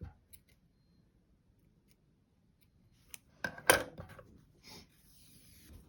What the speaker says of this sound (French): du fil pour la couture et je coupe